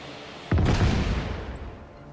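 A single explosion in Just Cause 3 hits suddenly with a sharp crack and a deep boom, then rumbles and decays over the next second and a half, loud and close.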